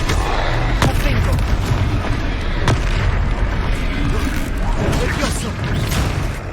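Blast spell explosions in the Hogwarts Legacy video game, a few sharp booming bursts over continuous rumbling combat noise, loud and dense, with a voice speaking at times.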